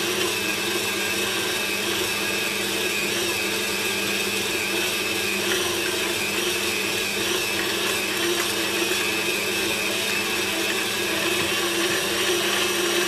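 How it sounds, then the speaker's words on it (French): Bread kneading machine works matlouh dough with a continuous close mechanical whirring and grinding hum, steady and unbroken from start to finish. "on va laisser le pétrin pétrir pendant environ 5 minutes"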